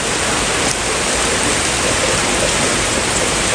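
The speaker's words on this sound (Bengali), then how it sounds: "দেখো আবার মুষলধারে বৃষ্টি শুরু হয়ে গেছে" A heavy downpour roars loud and unbroken, a dense close hiss of rain pounding down that fills everything, with no voices.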